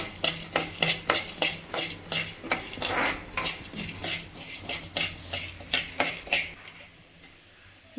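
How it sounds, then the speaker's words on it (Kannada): Chana dal roasts in a pan while a spoon stirs it, giving close, rapid metallic scrapes and clinks against the pan in an uneven rhythm before the stirring stops and it goes quiet. "ಕಡಲೆಬೇಳೆ ಹಾಕ್ತಾಯಿದ್ದೀನಿ. ಅದ್ರ ಘಮ ಬರೋವರೆಗೂ ಹುರಿಬೇಕು."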